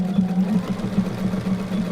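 A sewing machine stitches a decorative pattern with a close, steady, rapid mechanical whir and low rhythmic thumping that runs without a break.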